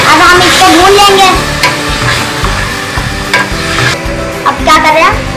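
Mutton stir-fried in a pot, loud scraping stirs and clattering strokes over a steady sizzle, continuous and close throughout, with a brief voice in the background.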